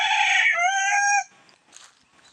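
A rooster in a small backyard chicken coop gives one loud, close crow lasting about a second, followed by faint clucks and soft rustling from the chickens.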